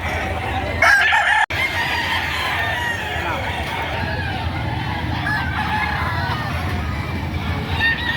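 Chickens and roosters at a livestock auction in the Philippines, loud clucking and repeated crowing over steady background crowd babble, with nearby voices talking.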